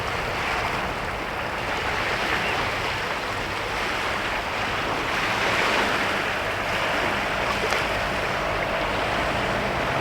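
Sea waves wash against the shore of Brodick Bay at dusk, a continuous soft surf roar mixed with light wind, with no voices.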